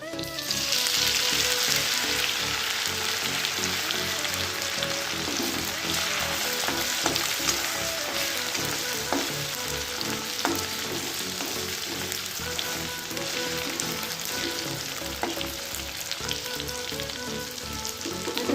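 Continuous crackling sizzle of ginger garlic paste frying in hot oil, steady and close, with occasional stirring scrapes and no talking.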